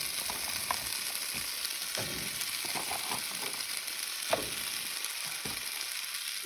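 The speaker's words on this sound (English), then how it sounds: "let that cook for a couple minutes until the mushrooms get tender" Sliced mushrooms and tomatoes fry in a pan at a desert camp, giving a continuous close sizzle and crackle broken by scattered soft pops and scrapes, with no talking.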